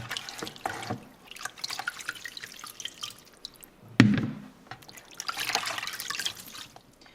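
Running water from a kitchen tap splashes and trickles as beef tripe for menudo is rinsed, with irregular bursts of flow, drips and one louder splash near the middle, close and moderately loud.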